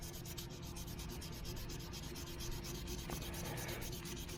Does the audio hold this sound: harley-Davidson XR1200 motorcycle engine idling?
no